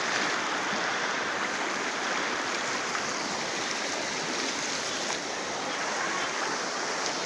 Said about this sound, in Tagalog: Lakas ang current ng tubig oh.